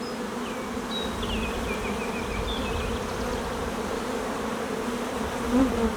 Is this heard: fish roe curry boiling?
no